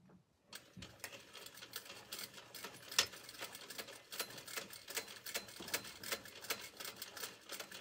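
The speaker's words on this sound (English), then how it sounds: "We're just going to run a line of stitching right there along that edge." A sewing machine runs a steady line of stitching along a fabric edge on a drawstring backpack, its rapid needle chatter starting abruptly and continuing close and even throughout.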